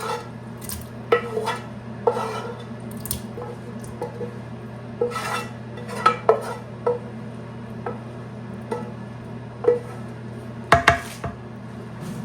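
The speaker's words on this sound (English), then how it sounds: "Stir that around." Black-eyed pea mixture being stirred inside a pressure cooker, intermittent scrapes and metallic clinks of a spoon against the pot over a steady low hum, near and moderately loud with no talk.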